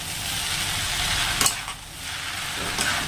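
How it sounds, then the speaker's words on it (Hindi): Soya Manchurian and garlic chowmein being tossed and mixed in a hot pan, with a steady sizzle of frying noodles and a couple of brief scraping clatters from the utensil, no talking. "तो ऐसे ऐसे करके पूरा अच्छी तरह से मिक्स करेंगे।"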